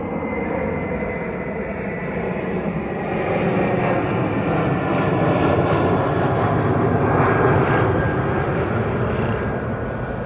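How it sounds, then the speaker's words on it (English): A fixed-wing airplane passes overhead near an airport beside a bee yard, its engine roar a steady, loud, broad rumble that swells slightly and holds for the full ten seconds with no talking. "obligatory airplane flying overhead"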